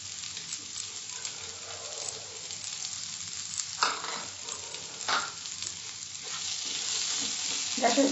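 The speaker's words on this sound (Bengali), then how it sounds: "ভালো করে মিশিয়ে নিতে হবে ডিমের সঙ্গে গরম মশলা, ধনে পাতা এবং অন্যান্য মশলা।" Boiled eggs tossed with garam masala and coriander leaves in a pan after the gas is turned off: a soft continuous sizzle with a few scraping stirs of a spatula, steady and close.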